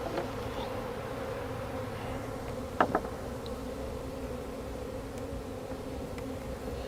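A honey bee swarm shaken into a hive box hums as a steady, dense buzz throughout, with a couple of brief knocks near the middle and no voices.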